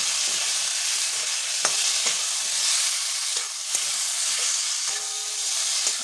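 Cumin seeds fry with a tomato in hot oil in a pan for a fish curry, giving a loud, steady sizzle, and a spoon scrapes and stirs through it now and then.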